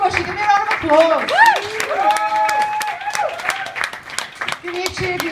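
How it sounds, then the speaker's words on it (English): Applause and some cheering from a small stand-up comedy audience, a steady wash of clapping mixed with voices and talk across the clip. "Give me a round of applause."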